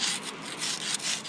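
Steel chisel scraping crumbling old lime mortar from a 10 mm brick joint, a close, steady gritty rasping with slight rhythmic strokes and no voices.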